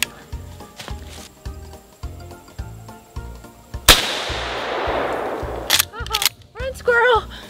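A single loud rifle shot cracks out while hunting squirrels outdoors, followed by a long decaying echo, with steady rhythmic low thumps throughout and people talking before and after the shot.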